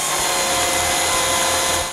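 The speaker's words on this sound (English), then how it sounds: "Then it's just a matter of drilling pilot holes on the moldings and screwing them to the doors." A power drill bores pilot holes into wooden door moldings in a workshop, producing a steady whirring hum that runs for about two seconds with no speech.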